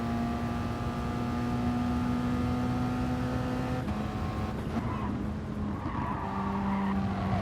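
A race car in a racing video game runs a lap with a steady, loud engine drone that drops sharply under hard braking partway through, then climbs again with brief tire squeal. No one talks.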